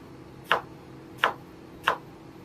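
Three crisp, separate knife strokes on a cutting board while an onion is cut, evenly spaced and close against a quiet background with no speech.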